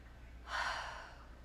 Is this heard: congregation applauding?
no